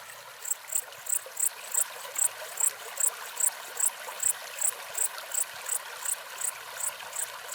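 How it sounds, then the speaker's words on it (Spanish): A spring night beside a river near Chernobyl, with soft, steady flowing water under a regular, pulsing high chirp of crickets, repeating about twice a second throughout. "Se escucha el andar del río"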